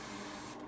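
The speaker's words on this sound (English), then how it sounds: "We've jumped straight into the airbrushing now." An airbrush driven by a compressor sprays paint in a steady, close, fairly loud hiss that runs on its own without a break and thins out sharply near the end.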